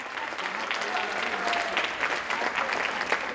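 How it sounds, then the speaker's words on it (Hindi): Audience applause for a musicians' band at a live music evening, a steady dense clapping that holds at an even level throughout, with faint voices mixed into the crowd. "तो बस जोरदार ताली हो जाए मेरे पूरे म्यूजिशियन बैंड के लिए"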